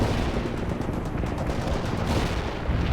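Artillery barrage in the real-time strategy game World in Conflict, heard as a dense, continuous roar of distant explosions and rumbling fire that holds steady and heavy for three seconds with no speech.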